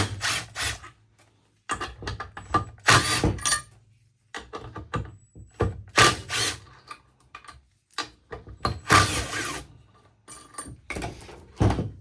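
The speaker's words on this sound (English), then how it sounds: "Remove the 4 T27 screws." Screws on a Milwaukee M28 bandsaw worked loose with a T27 driver, a run of close clicks, ticks and short scraping ratchet-like bursts separated by silent gaps, no talk.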